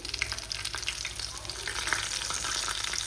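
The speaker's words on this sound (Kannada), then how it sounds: "ಇದು ಫ್ರೈ ಮಾಡಿದ್ನಲ್ಲ ಅದೇ ಎಣ್ಣೆಯಲ್ಲಿ ನಾನು ಕಾಯಿಸ್ತಾ ಇದ್ದೀನಿ ನೋಡಿ" KFC-style chicken fries in hot oil already used for an earlier batch, a dense, bright crackling sizzle that holds steady and close for the whole stretch.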